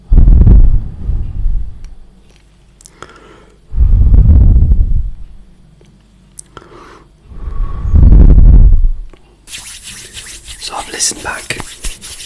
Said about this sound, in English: Blowing on the mic sounds good.